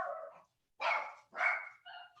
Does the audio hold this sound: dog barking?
yes